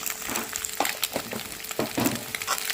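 Leftover rice being fried with egg and salt into egg fried rice in a pan, giving a steady crackling sizzle broken by several sharp spatula scrapes and stirs, close up, with no talking.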